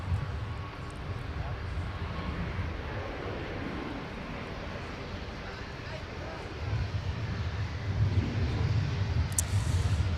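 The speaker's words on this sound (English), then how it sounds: "All right, there's our C-130." A C-130 aircraft flying at MSP airport in the Twin Cities, a broad low engine roar that holds steady and then swells louder toward the end, with people talking over it.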